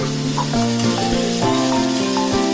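Ginger dropped into a hot pan of oil while cooking a fish curry, sizzling and crackling steadily up close with a few stirring scrapes, no talk over it.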